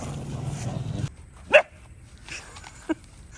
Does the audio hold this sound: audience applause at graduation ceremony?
no